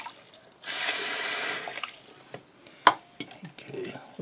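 Water gushes from a Delta bathroom sink faucet in a steady burst for about a second, then cuts off, followed by faint drips, clicks and handling noises.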